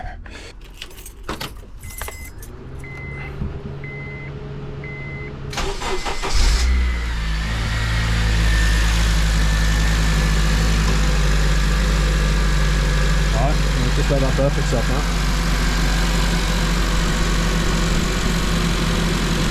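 A Honda Civic Type R FN2 engine starts and settles into a steady idle after a coolant change, preceded by jangling keys, with a person speaking briefly over the running engine.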